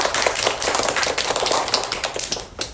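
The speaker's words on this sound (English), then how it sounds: "Clap." A second-grade class claps together in a dense, lively burst of many hands that carries on for a few seconds before tapering off.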